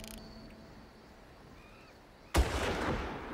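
Gunfire in the video game Far Cry: after a quiet stretch of faint ambience, one sudden loud blast breaks out and rumbles on steadily to the end.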